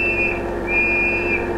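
A police whistle gives two sustained, steady shrill tones with a short gap between them, clear over a low background hum.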